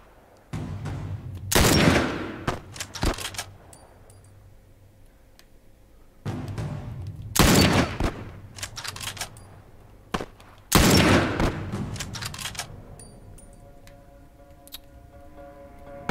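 Gunfire in The Last of Us, arriving in three loud, sharp bursts of rapid shots separated by quieter gaps, each volley ringing out with clattering tails.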